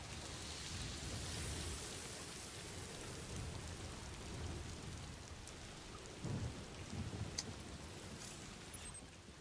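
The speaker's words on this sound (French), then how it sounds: "Ah oui, il pleut déjà, quoi." Steady rain hisses over a landscape in the video game Death Stranding 2, with low thunder rolling and one nearer rumble after the midpoint, continuous and moderately quiet with no voices.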